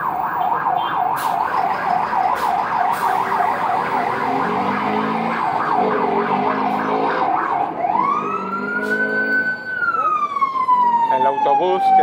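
An ambulance siren wails and yelps in busy street traffic on Avenida Cuauhnáhuac in Cuernavaca, Mexico, loud and close, then sweeps into a long rising-and-falling tone over the steady rumble of road vehicles.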